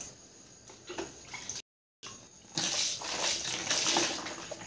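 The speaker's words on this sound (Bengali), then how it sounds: "এবার আমি এটা ধুয়ে নেব।" Water poured and splashed while washing feet in a basin during a cracked-heel foot care routine, a steady gushing wash broken by a brief silent gap, then louder continuous splashing.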